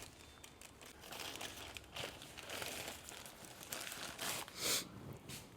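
A parcel's plastic wrapper is cut and pulled open, with close crinkling and rustling in uneven bursts and a louder crackle near the end.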